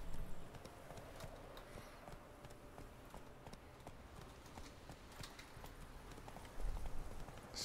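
Roach, the horse in The Witcher 3, gallops along with a steady clip-clop of hoofbeats, quiet but continuous under faint game ambience near a race course.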